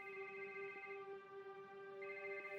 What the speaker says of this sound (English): When the phone finally rang, Maricela jumped to answer it